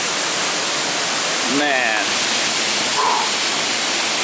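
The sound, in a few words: Tunnel Falls waterfall on the Eagle Creek Trail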